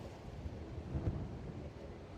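Steady wind gusting across the microphone, a low continuous rumble that swells briefly midway, with no voices.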